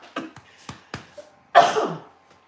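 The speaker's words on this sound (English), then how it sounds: "Sorry, my gosh, that cough." A few light clicks and taps, then one loud, harsh cough close to the microphone that trails off.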